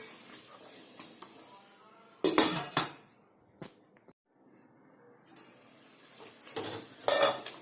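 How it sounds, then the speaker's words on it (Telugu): Sweet potato curry stirred in a pan, with clattering metal spoon-on-pan scrapes in a few bursts separated by quieter sizzling stretches, close up and without talk. "ఒక్కసారి కలుపుదామండి, మధ్య మధ్యలో కలుపుకోండి, మాడకుండా ఉంటుంది."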